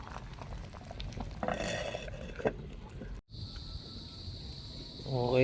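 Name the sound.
chicken soup pot boiling strongly on the stove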